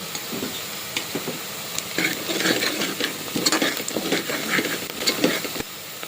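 Onions with turmeric and coriander leaves cook in a pan for mutton curry, a soft sizzle under irregular stirring and metal scraping that grows busier midway, heard up close without speech.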